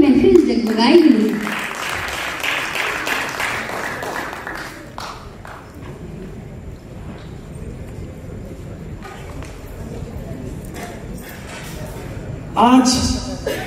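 Applause from an audience at a school Teachers' Day celebration, a broad steady clatter of hands lasting most of the stretch, fading near the end, with a voice at the start and again at the close.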